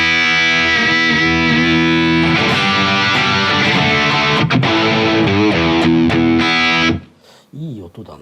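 Electric guitar played through a Marshall SV20H head with a handwired 1960AHW cabinet impulse response rings out in loud, distorted sustained chords and strums, cutting off near seven seconds before a few faint trailing notes.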